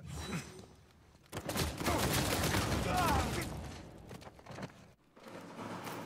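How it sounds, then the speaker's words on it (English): MP submachine gun blind fire in Uncharted 4 multiplayer comes as a dense burst of rapid automatic shots, loud and sustained for several seconds. Quieter game noise surrounds it before and after. "then blind fire down with the MP"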